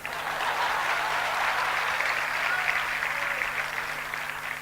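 A sermon audience claps in a dense, sustained round of applause that stays steady and loud throughout, with no speech over it.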